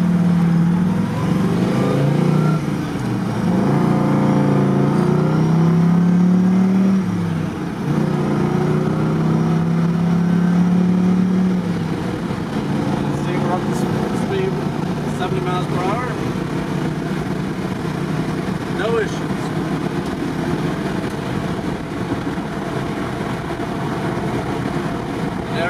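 A 1970 Chevrolet El Camino with a Doug Nash 5-speed transmission pulls onto a freeway, its engine rumbling steadily from inside the cab and rising as it accelerates, with someone speaking early on.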